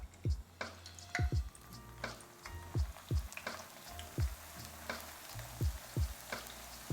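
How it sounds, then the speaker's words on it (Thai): Soy protein frying in hot oil, with a steady crackling sizzle and repeated stirring knocks at an even rhythm, close by and without talk. "ทอดทีละครึ่งก็ได้นะ ถ้ามันเยอะเกินไป เออพอเริ่มฟูแล้วเราทอดไฟอ่อนๆนะ"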